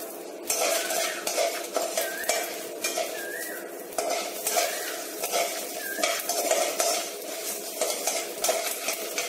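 Dried red chillies fry in hot oil in a pan while being stirred, for Tenkasi-style coconut podi: a steady sizzle runs throughout, with frequent scraping and clinking of a metal spoon against the pan, close up.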